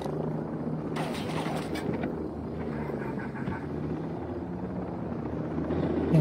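A helicopter in a video game hovers close with a loud, steady rotor drone and low thumping, a few sharp crackling bursts near the start, with little talk.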